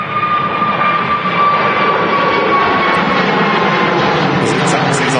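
An Airbus A380 taxiing at Manchester Airport, a loud steady jet engine roar with a faint high whine, continuous throughout and heard close up.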